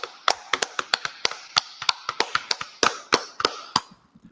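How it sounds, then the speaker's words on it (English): A small class group in Harlem claps in separate, sharp, close hand claps, about twenty in all. The claps come at an uneven, loose rhythm, with no voices over them. "Clap it up."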